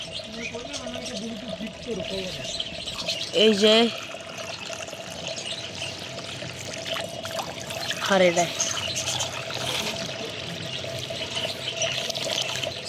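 Water trickles and pours as it is filled for pigeons at their cage, a steady low splashing under frequent nearby talking.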